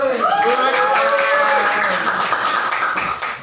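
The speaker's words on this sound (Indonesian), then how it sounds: "Tepuk tangan dulu untuk." Classroom students applaud together in a steady burst of clapping, fairly loud and close, with voices chattering over it before it tapers at the end.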